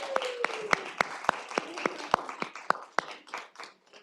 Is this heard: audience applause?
yes